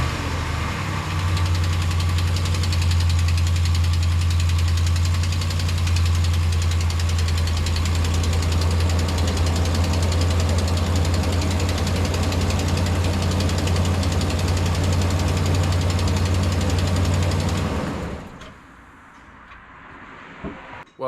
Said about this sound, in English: So now we're gonna go ahead and start this truck up, kind of see what it sounds like.